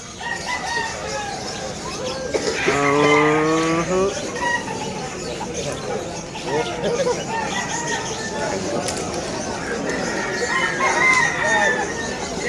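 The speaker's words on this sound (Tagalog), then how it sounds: "Ay, manok, ang laki oh." A big rooster crows loudly and close by at a busy morning pet market in Malabon, one long crow standing out over general crowd chatter and other bird sounds.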